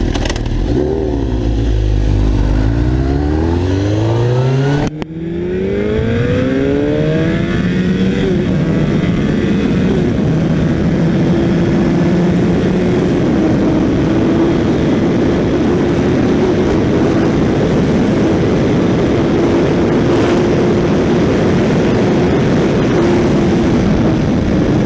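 GSXR 1000 and CBR 929 sport bikes launch hard together, engines climbing through rising gear-by-gear sweeps to a steady high-speed roar mixed with heavy wind rush, loud and close throughout with no talk.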